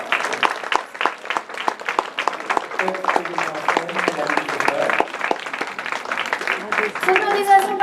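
An audience at an amateur theatre show claps continuously, with a dense patter that runs for several seconds and builds toward the end, and voices and cheers are mixed in.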